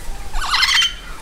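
A blue-fronted Amazon parrot gives a single loud, wavering call lasting under a second, close by, with quiet surroundings before and after.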